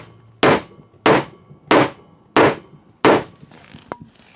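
Five sharp, evenly spaced hammer blows drive a wooden part of a night stand bookshelf into place, each a crisp knock with a short decay, followed by a lighter tap and a faint click.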